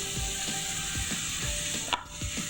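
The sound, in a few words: chopped onion and green chilli pieces frying in pan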